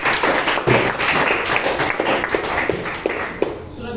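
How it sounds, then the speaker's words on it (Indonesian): An audience claps after a presentation, a steady wash of many hands with a few sharper individual claps standing out, holding for about four seconds with some voices mixed in. "tepuk tangan untuk ini"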